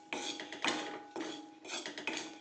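Peanuts are tipped into a pan of roasted salt, making short bursts of rattling, scraping clatter in three or four quick pulses, fairly quiet and close, with no voices.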